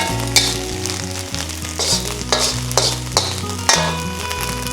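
Shrimp fried rice sizzling in a hot pot, a loud close continuous frying hiss broken by repeated sharp crackling surges as it is stirred, with no voices.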